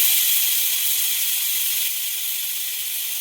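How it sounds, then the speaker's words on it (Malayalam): A pressure cooker full of potato curry lets out a steady, loud hiss of escaping steam, close and continuous throughout without any break or voices. "അപ്പം ഞാൻ എല്ലാം അരിഞ്ഞ് പെറുക്കിയിട്ട് കുക്കറിനകത്ത് ഇട്ട് വെക്കുന്നുണ്ട്. എന്നിട്ട് ഒരു വിസിൽ അടുപ്പിക്കാം."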